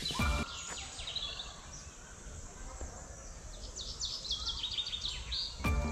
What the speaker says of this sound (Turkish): Kuş seslerini duyuyorsun değil mi ormanda?